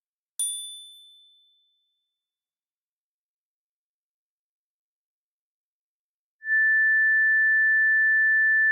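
A single bright metallic glockenspiel note strikes and rings out, fading over about a second, followed after a pause by a steady pure sine-wave tone.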